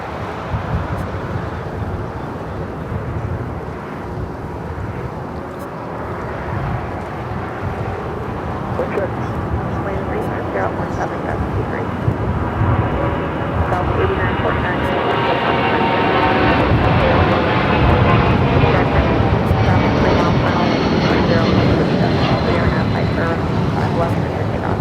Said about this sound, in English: It's a sports charter, 757 to 200, now rolling down at 25 left.